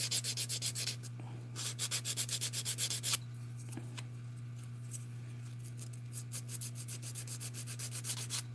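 Hand sanding of a scale model GTR windshield, a quiet rapid rhythmic rubbing in steady bursts close by, over a constant low electrical hum.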